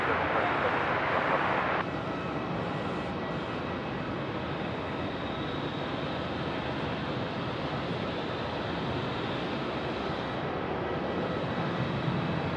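A Jetstar airliner rolls for takeoff on runway 27 in Melbourne, heard from a distance as a steady, broad roar that stays even throughout, with a louder burst of noise at the very start.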